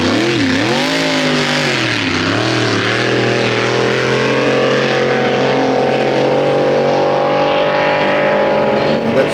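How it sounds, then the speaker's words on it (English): A racing power boat driven by a twin-turbo Ford Barra engine roars past on the river, a loud continuous engine drone that dips in pitch and then holds steady, with a voice faintly beneath it. "And that's the Barra. There's 2 turbos running there then."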